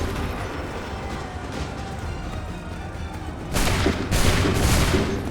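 Musket volley fire in the Assassin's Creed III remastered game: a steady din of battlefield noise, then a loud burst of massed musket shots followed by further ragged volleys, close and alone with no talk.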